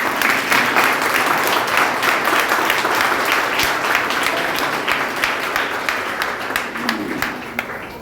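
A standing audience applauds in tribute at a memorial gathering for executed freedom fighters, dense sustained clapping filling the room evenly from start to finish without talk.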